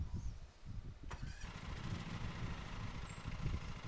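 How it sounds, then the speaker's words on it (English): A lawn mower engine in Lawn Mowing Simulator cranks over and catches, then settles into a quiet, steady rumbling idle with no talk. "We'll start our engine."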